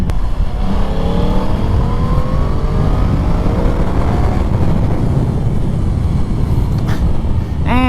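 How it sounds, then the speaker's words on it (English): 2020 Yamaha R1 sport motorcycle accelerating hard on an open road, engine pitch climbing steadily through the gears under heavy wind rush, loud and close throughout. "you just give it a crack of the throttle and you teleport down the dang road"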